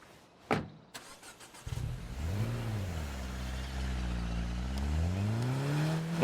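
A car engine in a survival video game cranks, catches and then revs steadily, its pitch rising and falling in smooth sweeps, loud and close with no talk over it.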